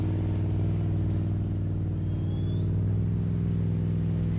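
Steady, loud engine drone from a car doing a burnout at Summernats, held at a constant rev with a deep continuous rumble and no voices, filling the whole stretch without letting up.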